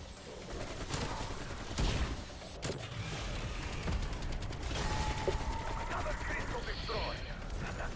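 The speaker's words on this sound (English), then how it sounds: "But it is such a controllable gun, I don't even have any foregrip attachment to reduce its recoil." RPK light machine gun fired in Call of Duty: Black Ops Cold War Zombies against the Legion, with sustained bursts of gunfire and game effects layered over a dense, loud mix throughout.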